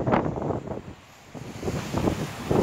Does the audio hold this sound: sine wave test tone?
no